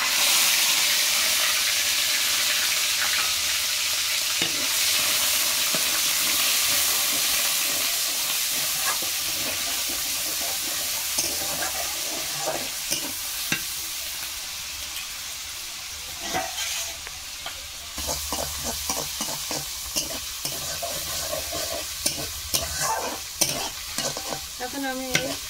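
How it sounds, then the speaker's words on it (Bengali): Garlic and onion paste frying in a pan for a crab and bamboo shoot dish: a steady loud sizzle runs throughout, and scraping stirring strokes grow more frequent toward the end. "এই যে রসুন বাটা পেঁয়াজটাকে একটু ভেজে নিলাম"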